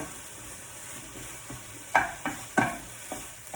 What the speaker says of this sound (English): So keep stirring.